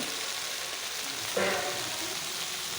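Green chilli, tomato, turmeric and asafoetida fry in a pot for salla charu, giving a steady close sizzle with a brief louder burst of crackle partway through, no voices.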